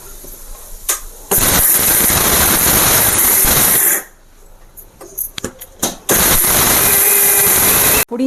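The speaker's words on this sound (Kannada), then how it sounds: "ಪುಡಿನ ಇವಾಗ ಮಿಕ್ಸರಲ್ಲಿ ಹಾಕಿ" An electric mixer grinder pulverizes spice powder to a coarse texture for nalgri huli, giving loud, steady whirring bursts with a short pause and a few brief pulses between runs.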